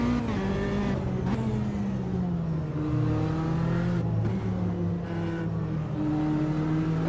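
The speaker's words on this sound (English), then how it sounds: "There's a car approaching." A race car engine in the sim racing game Automobilista 2 drones loudly and continuously, pitch rising and dropping through gear shifts as another car closes in on the Montreal circuit, with no talk.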